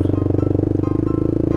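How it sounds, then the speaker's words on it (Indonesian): A motorcycle fitted with a racing exhaust idles close by, giving a steady, rapid, throbbing pulse with a deep low rumble and no other sounds over it. "ini gua cuman sama Mang Epul aja nih yang pakai knalpot racing"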